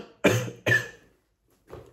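Two loud, close coughs back to back, followed by a brief pause and a fainter third cough.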